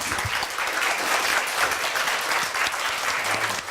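Sustained, dense audience applause in a university lecture hall after a chairman's talk and Q&A, loud and steady throughout with no speech over it.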